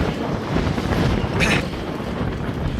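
Steady wind buffeting the microphone in a continuous low rumble during a long group ride toward Oroquieta City, with a brief hissy gust in the middle and a faint motor-like drone underneath.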